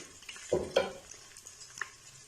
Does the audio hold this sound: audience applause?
no